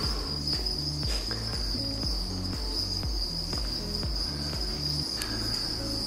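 Farmed crickets chirp in a breeding container, a dense chorus of rapid, regular pulsing chirps over a constant shrill high trill, steady and fairly quiet throughout.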